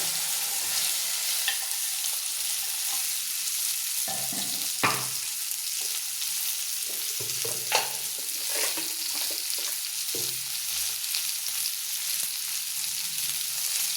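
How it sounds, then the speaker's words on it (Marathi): Okra frying in an oiled pan with red chili powder and black masala, a steady loud sizzle broken by occasional scraping stirs of a spoon against the pan. "आता आपण हे भेंडी टाकून घेऊ"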